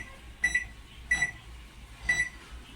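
An LG solo microwave oven is set for a high-power run, giving three short, clear electronic beeps spaced apart over a faint background hum.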